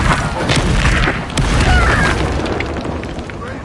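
A Bombarda spell blast in Hogwarts Legacy, a heavy booming explosion with rumbling low end and crackling debris that rolls on for a few seconds before fading.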